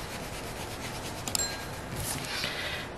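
Someone rubs the back of a stamped plastic window sheet for a handmade house reflection card: a steady, close dry rubbing and scratching that runs the whole time, with a couple of brief sharper scrapes partway through and no talk.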